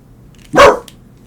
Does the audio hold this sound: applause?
no